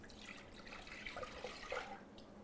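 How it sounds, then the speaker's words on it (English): Milk poured into a pot on the stovetop while making chocolate coupes, a steady liquid splashing and trickling that runs near and continuous for a couple of seconds. "So milk goes in."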